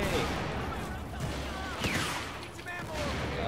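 Gunfire and a grenade in the video game Battlefield 4, with scattered bursts of shots and blasts at moderate level over a busy background and some voice chatter.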